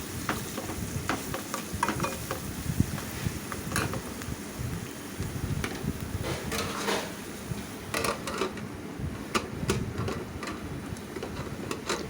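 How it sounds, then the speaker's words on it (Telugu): A ladle stirs dry prawn and drumstick curry in a sizzling pan, giving steady frying hiss under repeated scraping and clinking strokes close up, with no voices. "ఇప్పుడు గరిటెతో మొత్తం కలిసే విధంగా కలుపుకోవాలండి."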